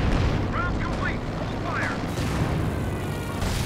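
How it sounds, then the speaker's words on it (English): Artillery from a creeping barrage in Company of Heroes 2 rumbles and booms continuously in a dense wash of distant blasts, with someone talking over the gunfire. "Using the creeping barrage, it's just"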